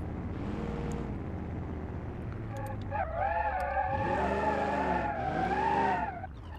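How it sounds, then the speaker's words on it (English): In BeamNG.Drive, a powerful modified car roars through a burnout, its engine revving up and down while the tires squeal in long, loud, tonal skids that rise and fall in pitch. "it's got the power to do burnouts now"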